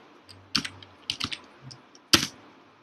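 Keystrokes on a computer keyboard while working in Microsoft Word, coming in short clustered bursts of clicks with pauses between them, close and clear with no talking.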